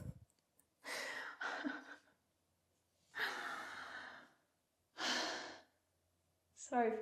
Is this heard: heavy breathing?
yes